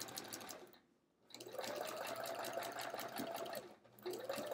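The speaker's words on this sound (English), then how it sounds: "I'll also get a sense of how much fabric can be rolled up into the neck of this sewing machine." A sewing machine stitches a metallic hourglass block quilt, running in a steady close whir with two brief pauses where the motor stops and restarts.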